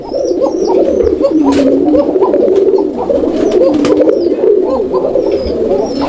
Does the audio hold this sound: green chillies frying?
no